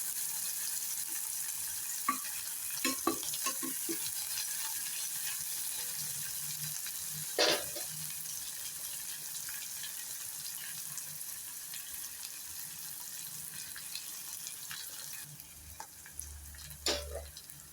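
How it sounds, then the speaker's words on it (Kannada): Onions fry in tempering oil for horsegram sabzi, giving a soft, steady sizzle. A few spoon scrapes and clinks break through it, and near the end comes a low hum. "ಇವಾಗ ಈರುಳ್ಳಿ ಬೇಯ್ತಾ ಇದೆ ಒಗ್ಗರಣೆಯಲ್ಲಿ"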